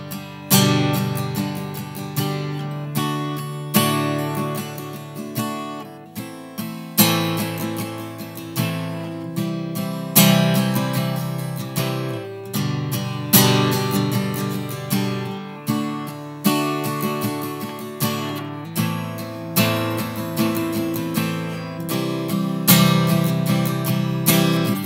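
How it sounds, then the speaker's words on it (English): Acoustic guitar chords strummed in a steady pattern with one loudly accented strum each bar, the louder hits recurring regularly over softer strums. "So taking our 1 and 2 and a 3 and a 4 strumming pattern on the same chords as we were just playing, it'll sound like this."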